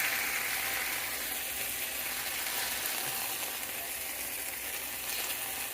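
Meat drippings sizzle in a pan, a steady broadband crackle and hiss that carries evenly throughout with no talking.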